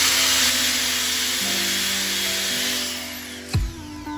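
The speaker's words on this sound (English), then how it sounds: "I am drilling 3 holes in the buckets so that water can drain out." A cordless drill gun whines steadily as it bores holes in a 5-gallon plastic bucket, its motor pitch dropping slightly as the bit works through, ending with a sharp knock near the end.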